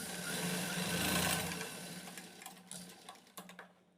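Sewing machine stitching together the two front pieces of a katori blouse, a steady mechanical whir that runs close and loud for a few seconds, then eases into softer, uneven bursts.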